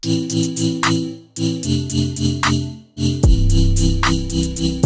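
Pulsing Serum synth chords in a future bass style swell and duck in a rhythmic sidechain-compressed pumping pattern, interrupted by brief gaps, with a deep bass drop entering near the end.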